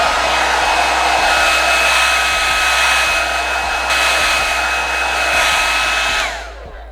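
Hair dryer on a cool setting blowing over wig glue, a steady loud whooshing roar with a faint whine that runs continuously and then cuts off near the end.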